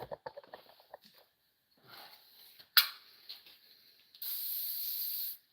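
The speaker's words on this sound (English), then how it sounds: "I'll spray it with some WD-40." WD-40 aerosol can spraying a timing chain part during Ford Focus ST engine work, a steady hiss of about a second after a few faint clicks and handling noises, close and clear.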